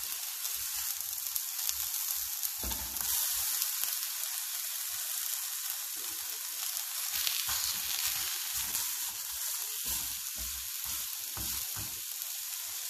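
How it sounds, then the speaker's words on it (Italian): Aubergine slices sizzle steadily in a very hot non-stick pan, a constant close frying hiss with small crackles and no talking. "La padella è bella rovente e quindi iniziamo a cuocere le melanzane."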